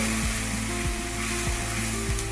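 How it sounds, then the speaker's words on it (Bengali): Prawn malai curry frying in a pan as spice paste mixed with water is stirred in, giving a steady close sizzle with a few soft scraping strokes and no talk. "এবার এটাকে আমি একসাথে ভালো করে নাড়াচাড়া করে নেব।"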